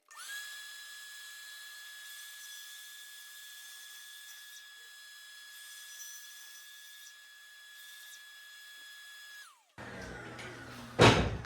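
A Makita XGT 40V cordless track saw runs with dust extraction attached, giving a steady high motor whine for about nine seconds that spins down, followed by brief clattering handling noise up close.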